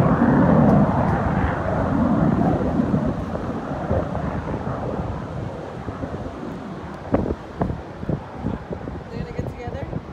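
F-35 and F-22 Raptor military jets at an air show over Huntington Beach make a loud, broad roar that slowly fades, with wind buffeting the microphone and people talking underneath.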